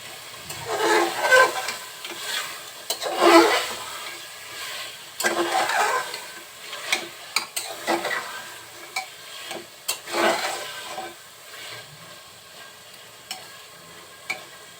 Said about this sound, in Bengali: মাংসগুলো মশলার সাথে খুব সুন্দরভাবে কষিয়ে নেব